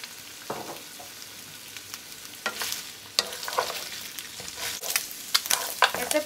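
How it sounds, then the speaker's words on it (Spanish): Precooked pork ribs browning in hot oil for a red-sauce dish, giving a crackling sizzle broken by scraping stirring clatter, growing louder and busier toward the end. "Aquí le voy a estar agregando el aceite para irlas dorando."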